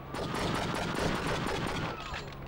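Rapid bursts of gunfire in the police action game True Crime: Streets of L.A., a fast, loud volley that keeps going for about two seconds, then drops back to quieter game sound.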